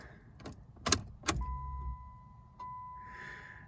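Keys rattle and a door or switch clicks inside a 1992 Dodge Dynasty LE car, then a steady electrical whine and chime start as the key is turned on, fairly quiet and close with no talking.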